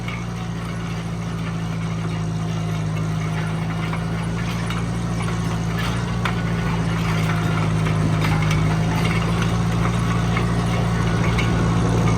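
A tractor grinds and churns steadily while grading a farm driveway, its loud engine drone holding a constant low hum as the wheels spin out on the loose surface, with no voices.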